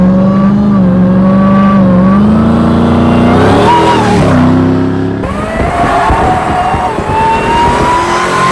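Supercharged 6.2 liter Demon Hemi V8, rated 840 hp, with a Trackhawk transmission, swapped into a 2023 Jeep Gladiator, idling loudly and close with a deep rumble that swells into brief revs and settles again.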